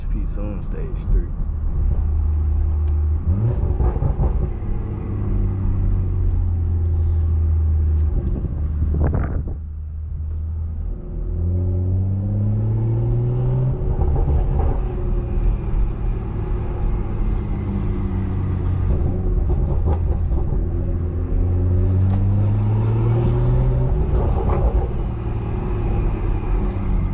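A BMW 340i with a big turbo, XHP Stage 3 tune and straight-pipe exhaust drives along, its deep droning exhaust rising and falling in pitch through several pulls, steady and close beneath heavy wind buffeting, with a voice talking at times.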